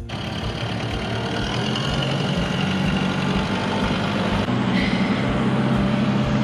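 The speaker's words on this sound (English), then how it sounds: "He just likes to use the tractor." A tractor engine idles steadily throughout, a close, loud low rumble with a continuous drone and no voices.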